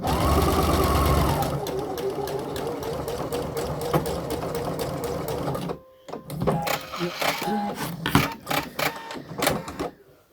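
A sewing machine stitches a blouse in a steady, loud whirring run for about six seconds, then stops and gives way to scattered clicks and handling noises with faint voice-like sounds.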